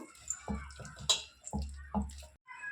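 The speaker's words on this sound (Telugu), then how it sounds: "కొంచెం వాటర్ పోసుకుంటూ చూసుకుంటూ కలుపుకోవాలి పిండి" Wet, squelching splashes as water is worked into a thick gram-flour batter for chilli fritters, a few separate sloppy sounds in uneven rhythm, close up.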